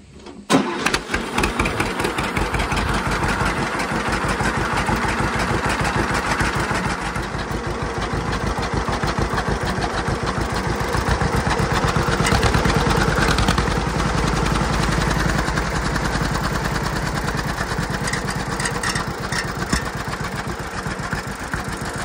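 A John Deere B tractor engine cranks and catches, then settles into a steady, loud, continuous idle with a rapid chugging pulse close by and no talking.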